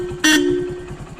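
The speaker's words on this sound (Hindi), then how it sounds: "हॉर्न की साउंड है वो भी ख़राब हो चुकी है।" A faulty horn on a Hero Splendor Plus motorcycle gives one short, loud, buzzy honk that trails off into a thin tone over the rhythmic putter of the idling engine.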